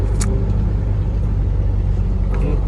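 A very loud dump truck engine rumbles close by, a deep, constant roar with a couple of faint higher clicks over the top.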